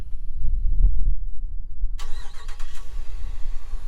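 A 2018 Ram 1500 pickup with a 6-inch lift starting by remote auto start: a low cranking rumble that catches, then a brief bright chirp and a steady idle hum.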